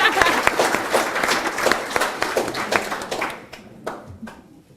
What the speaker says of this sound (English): that's probably worth an extra round of applause